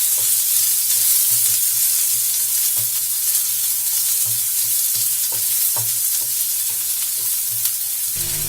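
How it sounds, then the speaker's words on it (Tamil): Two large onions, sliced lengthwise, sauté in a pan with a loud, dense, steady sizzle, punctuated by regular spatula scrapes and stirring knocks close by, with no voices. "வெங்காயம் வந்து நல்லா வதங்கட்டும்"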